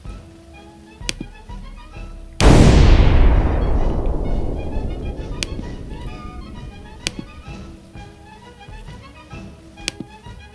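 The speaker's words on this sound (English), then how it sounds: "Shoot it into Acre with your cannon." A single cannon fires near a besieged city, a sudden loud boom that rolls and decays over several seconds, surrounded by faint sparse clicks and ticks, with no speech.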